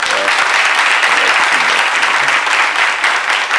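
Loud, sustained applause from a crowd, dense clapping filling the whole stretch, with a faint voice briefly audible beneath it at the start.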